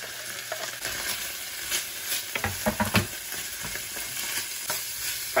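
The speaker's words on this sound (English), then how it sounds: "fry that onion for about 5 minutes until it's kind of like soft" Half an onion with garlic frying in oil in a pan, giving a steady close sizzle with occasional scraping stirs and utensil knocks, and no talking.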